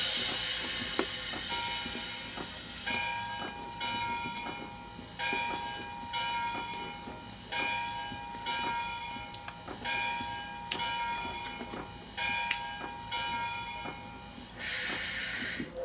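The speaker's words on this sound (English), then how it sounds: "That's just my train clock" A train clock plays its hourly train sounds: rhythmic clacking of wheels with chiming tones and a short whistle-like toot near the end, moderately loud and repeating in even pulses indoors.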